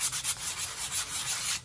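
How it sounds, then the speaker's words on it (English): A sanding block rubs over a foam-style terrain hill for 15mm miniature wargaming, giving a soft, steady hiss of quick back-and-forth strokes, close but quiet. "And just doing the sanding block"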